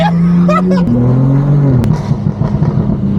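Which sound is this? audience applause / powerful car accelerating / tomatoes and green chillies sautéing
powerful car accelerating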